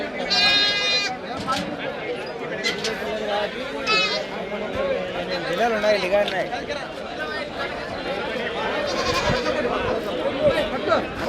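Several young rams bleat repeatedly at a livestock market in Pattikonda, some close and loud, others farther off, amid the chatter of a busy crowd.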